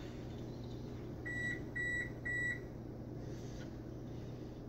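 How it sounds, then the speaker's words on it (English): An oven beeps three times in a quick even series to signal it has preheated to 360 degrees, clear electronic tones over a low steady kitchen hum. "the oven's ready. You have it 360 degrees."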